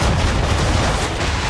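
Ship cannons firing in Assassin's Creed III, a sustained loud, rumbling barrage of overlapping booms that fills the whole moment without speech.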